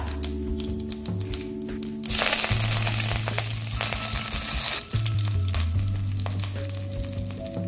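Dried red chillies and a sprig of curry leaves hit hot oil with mustard and fenugreek seeds for a Tamil fish curry, bursting into a loud, steady sizzle after a quieter start, with faint tonal background music throughout.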